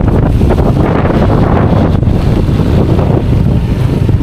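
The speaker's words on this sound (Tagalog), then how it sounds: "Malakas na yung hangin." Strong mountain wind roars continuously in San Jose de Buan, Samar, buffeting the microphone with loud, rumbling gusts and no voices.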